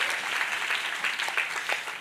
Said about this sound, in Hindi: जोरदार ताली बजाकर परमेश्वर को महिमा कीजिए